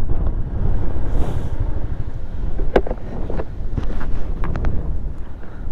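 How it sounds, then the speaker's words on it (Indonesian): Strong wind gusts buffet the microphone at an empty campsite, a steady loud rumble with a few sharper bursts and no talking. "Cari yang gak kencang anginnya."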